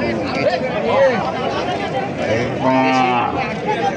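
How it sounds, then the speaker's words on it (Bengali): Deshi cow mooing at the Raniganj cattle market, one loud close drawn-out moo rising over a background of people talking and crowd murmur. "এটা তো আমাদের এপারের গরু, দেশি গরু"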